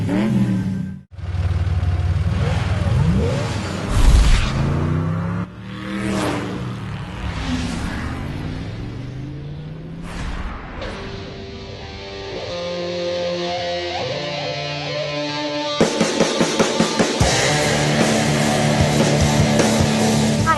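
An M1A1 Abrams tank at the Marine Corps Air Ground Combat Center in 29 Palms, California, runs loud and close, its engine surging and falling in sweeping whines before settling into a steady high hum with rapid rattling clicks near the end.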